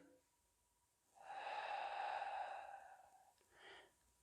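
Strained breathing of someone holding a side plank during a core workout: a long, loud, airy exhale lasting about two seconds, then a brief quieter breath after a pause, close to the mic with no talking.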